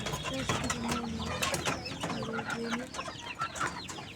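Chickens cluck close by, making short repeated calls over a clattering, mechanical background, with some faint voices mixed in.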